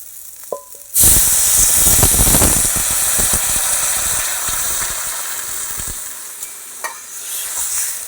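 Water poured into a hot pan of fried mung dal bursts into a loud, hissing sizzle after a second of quiet, then settles into a steady bubbling roar that slowly fades, with a few faint utensil clicks, close and without talking.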